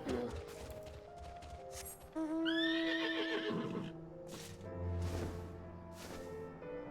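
A six-legged horse mount in the Final Fantasy XIV video game gives a clear, fairly close neigh: a rising, quavering whinny in the middle of the clip, with hoof clip-clop and game sound effects around it.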